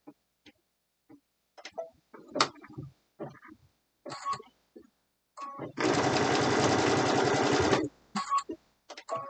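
A sewing machine stitching quilted fabric for a pen holder, heard as one steady two-second mechanical whir in the middle, set between soft handling clicks and small rustles.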